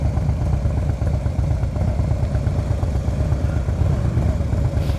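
A motorcycle idles along through a slow-speed U-turn at low throttle on a practice course, a steady low chugging engine rumble at even volume with no speech over it.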